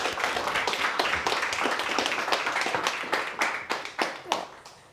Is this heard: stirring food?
no